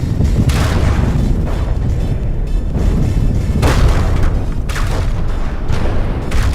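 Heavy vehicle weapons firing in a combat video game, deep booming blasts rolling one after another over a dense, continuous low rumble, loud and close.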